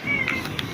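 A pet cat meows once, close and fairly clear, in a short indoor moment with faint background noise.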